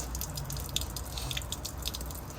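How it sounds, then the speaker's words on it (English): Clean water draining from the freshwater tank drain of a 2018 Starcraft Autumn Ridge 291BHU bunkhouse RV, a steady splashing trickle with scattered sharp drips, close and fairly quiet, with no voices. "we're going to open it up and we're going to let the water drain out of it"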